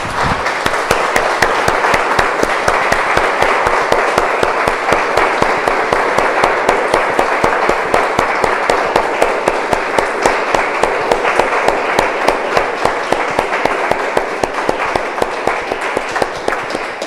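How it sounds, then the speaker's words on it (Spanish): A church congregation applauds at length, loud and dense, with a steady rhythmic clap running through the broad wash of hands. "Damos un aplauso, hermanos, al Señor."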